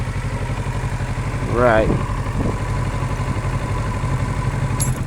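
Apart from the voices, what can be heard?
Kawasaki motorcycle engine idling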